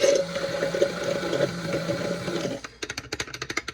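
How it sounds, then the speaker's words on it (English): An immersion blender whirs through hollandaise sauce made with lemon juice, water and hot sauce, a loud steady motor drone for about two and a half seconds, then a few short pulsing bursts as it is switched on and off. "we don't need to use the immersion blender a lot"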